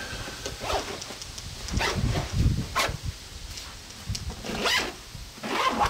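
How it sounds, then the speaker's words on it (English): Zippers on the pockets of a Vanquest Trident 20 backpack being pulled closed, several quiet close rasping strokes in an irregular rhythm. "Zipping those back up."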